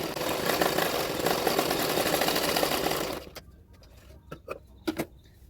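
A sewing machine runs steadily as it stitches extra fabric onto a blouse lining. The whirring is continuous and fairly loud, then stops abruptly, leaving a few faint clicks and handling noises.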